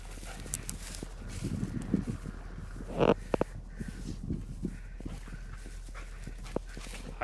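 A hunting dog searches for a bird outdoors, giving soft whimpers amid scattered rustling and footsteps, with a few sharper knocks near the middle and a steady low hum underneath.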